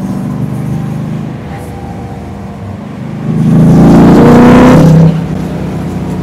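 A 1975 Chevrolet Corvette L82 convertible on a test drive, its engine droning steadily before swelling into a louder, harder pull for a couple of seconds, then easing back to a cruising hum.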